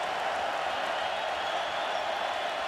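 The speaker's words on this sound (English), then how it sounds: "Crowd gets loud on 3rd down and 6." Stadium crowd noise at a Kentucky college football game against Miami (OH), a steady, loud roar of fans building on third down and six, continuous with no pauses and no voices standing out.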